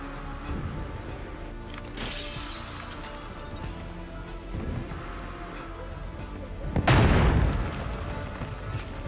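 Sniper gunshots in a multiplayer shooter game boom out, a bright crack near two seconds and a heavier, louder blast near seven, over steady in-game background noise.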